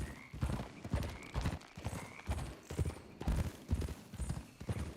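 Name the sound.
horse galloping and neighing, video game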